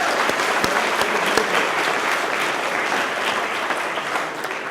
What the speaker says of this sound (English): Another big round of applause for everybody who works here.